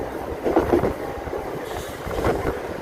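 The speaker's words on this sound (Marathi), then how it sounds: "आता खूप स्पीड पकडणार आहे ट्रेन" A Churchgate–Virar fast local train runs between Vasai Road and Virar, a steady rumbling roar with soft rhythmic clatter, heard without talk.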